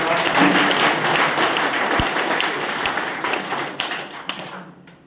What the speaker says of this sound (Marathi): चला माझ्यासाठी जोरदार टाळ्या वाजवा